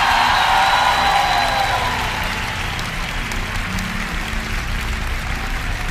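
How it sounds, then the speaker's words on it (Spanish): Concert audience in a theater in Mexico applauding after a singer's request, a dense, steady wash of clapping mixed with crowd noise that holds at a strong, even level for the whole stretch. "¡Un aplauso, México!"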